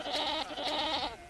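Pashmina goats in the high desert of Ladakh bleat in two wavering, nasal calls close by, with no voices over them.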